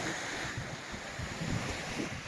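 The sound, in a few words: sea waves and cold wind on Anapa beach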